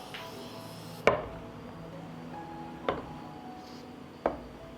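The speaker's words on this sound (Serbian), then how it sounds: "sada ćemo izvaditi tegle iz šerpe" Glass jars of preserved plums are lifted out of a pot after pasteurization, giving three separate sharp clinks against metal over a quiet kitchen background.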